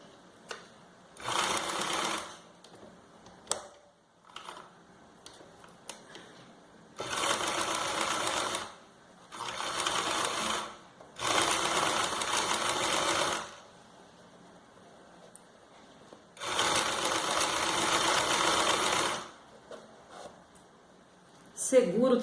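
A sewing machine stitches a wide zigzag on a fabric mug rug in several loud runs of rapid whirring, separated by pauses where someone talks.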